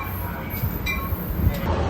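Rumbling ambience at a train station after a long-delayed train arrives, a steady low rail-yard roar with faint clinks and distant mechanical hiss, no clear voices.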